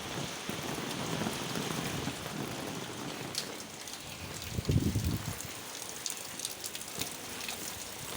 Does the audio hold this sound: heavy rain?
yes